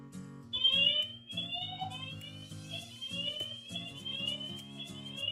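A SriHome IP CCTV camera's built-in alarm siren sounds loud and close: repeated rising electronic sweeps over a steady, pulsing lower tone, continuous for several seconds with no talking.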